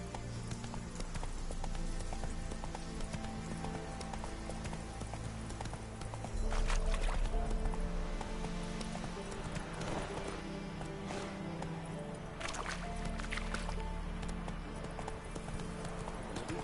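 A horse gallops in The Witcher 3 video game, its hooves clopping in a fast, steady rhythm over a busy game soundscape, with a brief whinny or loud thud in the middle and faint game voices around it.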